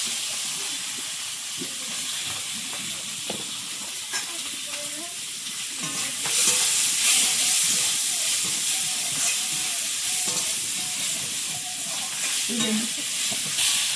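Prawns frying in spice paste in a pan produce a continuous sizzling hiss with scraping stirs and soft clinks, growing louder about halfway through; no one speaks.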